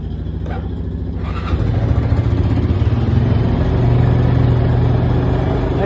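A Honda 4x4 off-road engine runs steadily after a cold start, a loud, continuous mid-pitched drone that rises slightly in level partway through, with no talk over it.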